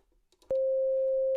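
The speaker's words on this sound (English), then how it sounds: "send a simple sine wave" A steady pure electronic sine wave tone from a synthesizer switches on abruptly after a soft click and holds at a constant pitch, loud and unwavering.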